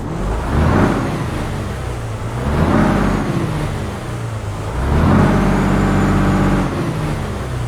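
A heavy Detroit Diesel DD13 truck engine in American Truck Simulator drones and revs in three long swells, rising and easing back, loud and close with no voices.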